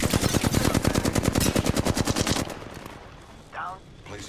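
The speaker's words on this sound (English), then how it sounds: "Shots fired. And they're hitting me." Rapid automatic gunfire in the video game Apex Legends, a sustained loud burst of evenly spaced shots for about two and a half seconds, then stopping, followed by quieter game ambience and a brief swishing effect.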